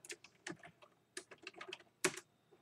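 Quick bursts of keystrokes on a computer keyboard, clustered clacks with brief pauses between them, close and fairly quiet, with no voices.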